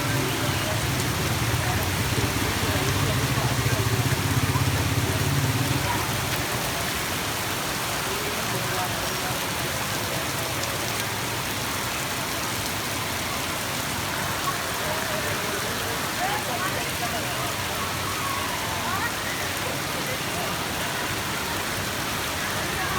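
Heavy rain pours down steadily, a dense continuous hiss of water with a low rumbling layer early on, and faint voices mixed underneath.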